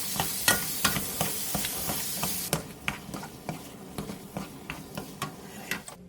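Marinated squid is stir-fried with onion and carrot in oil over high heat, a steady sizzle broken by repeated sharp spatula scrapes and clicks against the pan, close and alone.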